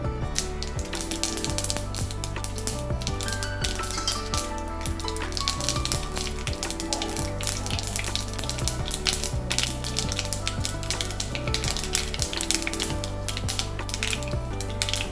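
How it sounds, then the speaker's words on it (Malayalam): Mustard seeds crackle and pop in hot oil in a pan while cooking spicy palak masala, a dense, steady run of sharp sizzling pops and spatters continuing close and loud throughout, with no talking. "എണ്ണ ചൂടായിട്ടുണ്ട് നമുക്ക് കുറച്ച് കടുക് ഇട്ട് കൊടുക്കാം ഈ കടുക് ഒന്ന് പൊട്ടട്ടെ"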